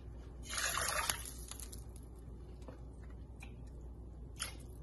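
Two and a half cups of water poured into a homemade jambalaya pot over seared meat, a brief splashing gush near the mic that fades into low, quiet liquid movement.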